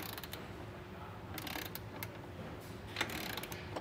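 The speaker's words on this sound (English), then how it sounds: "torquing things down, starting with the brackets that actually attach to our vehicle" A ratchet torques down the nerf bar mounting brackets on a 2023 Ram 2500 for Westin R5 modular nerf bars, giving a few quiet bursts of clicking over a low background hum.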